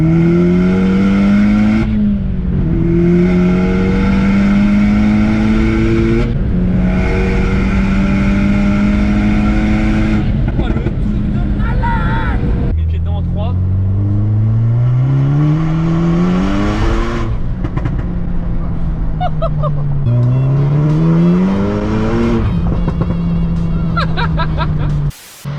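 A 500 hp VW Polo with a manual gearbox accelerates hard. The engine pitch climbs repeatedly and drops at each gear change, loud and close, through several shifts, with faint voices in the background.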